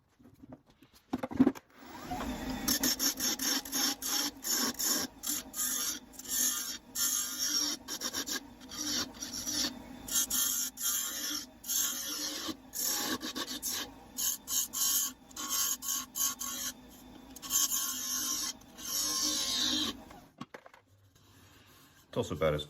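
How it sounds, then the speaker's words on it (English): Rasping and filing on the outside of a wooden apple box's top half, a steady rough scraping in repeated strokes that runs close and continuous for most of the stretch, with brief pauses near the start and end. "Start shaping this top half on the outside to match the bottom."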